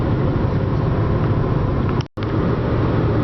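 A car rolls along an old rural Michigan road lined with pines, producing a loud, steady interior rumble and road noise with a brief sharp dropout near the end.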